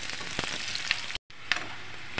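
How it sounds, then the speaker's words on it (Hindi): Onion frying in hot mustard oil in a wok for an egg curry, a steady bright sizzle with a brief dropout midway and a few crackling pops, close and alone without talk. "तेल गर्म हो गया, अब इसमें प्याज डाल देंगे और प्याज को हमने भूनना है"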